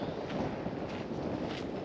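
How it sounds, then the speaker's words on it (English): Gusty wind buffets the microphone with a steady rumbling roar near an active volcano, no voices present. "Very windy suddenly."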